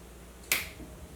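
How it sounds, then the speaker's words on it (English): A single sharp finger snap cracks out once, close and crisp, in an otherwise quiet room. "So I'm going to snap my fingers."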